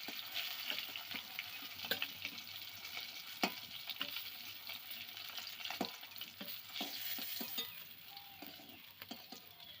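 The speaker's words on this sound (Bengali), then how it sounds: "মাছগুলো আমার খুব ভালো করে ভাজা হয়ে গেছে, লাল লাল করে ভেজে নিয়েছি।" Fish fries in hot oil in a pan with a steady, close sizzle and crackle, punctuated by scattered sharp clicks and scrapes of stirring, with no talking.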